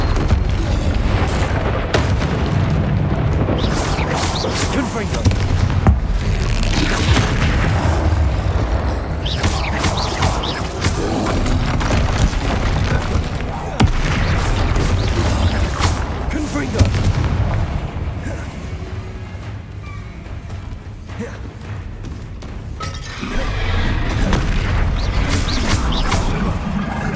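Repeated Confringo blasting spell explosions in a Hogwarts Legacy battle against a troll, a long run of loud booming blasts and crackling bursts with brief lulls, and voices speaking between them.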